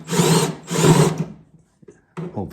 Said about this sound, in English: Here's an example of how I drill out these spot welds.